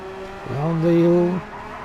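Race cars cornering at Interlagos in a racing video game, with engine tones sweeping in pitch and a brief tire squeal, one car close and loud, while a commentator talks throughout.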